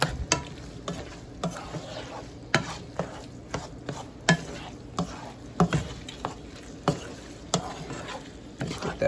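Noodles being stirred in a hot pan with chanterelle mushrooms, irregular scraping and clacking strokes over a low sizzle, close and fairly quiet.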